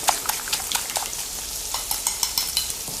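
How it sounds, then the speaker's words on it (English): Eggs are beaten in a bowl with quick, rhythmic clicks and taps of the utensil against the bowl, close and steady over a soft background sizzle. "beat up the eggs till you've got just a glorious yellow puddle"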